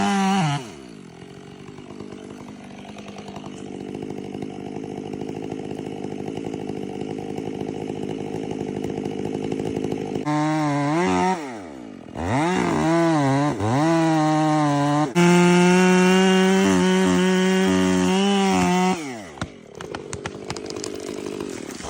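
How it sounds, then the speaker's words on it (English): A long-bar chainsaw roars steadily, its engine note rising and falling as it trims large tree branches and cuts into the trunk, with brief pauses between loud, close cuts. "workers use a chainsaw with a long bar to trim large branches, then switch to cutting straight into the tree trunk"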